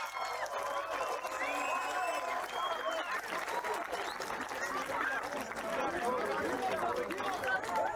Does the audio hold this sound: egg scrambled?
no